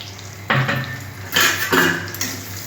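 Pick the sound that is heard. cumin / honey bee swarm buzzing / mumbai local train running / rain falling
cumin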